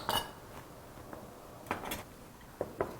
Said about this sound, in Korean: 자, 이제 접시에다가 완성된 샐러드를 담아 보도록 하겠습니다.